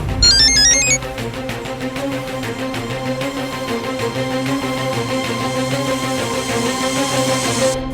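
A mobile phone ringtone plays loudly, opening with a quick run of high melodic notes that give way to a sustained tonal tune, with no voices.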